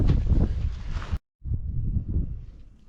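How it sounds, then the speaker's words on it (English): Strong wind buffets the microphone beside a Cat 416 backhoe with a loud, low rumbling roar, briefly cutting out before gusting again. "Still pretty windy."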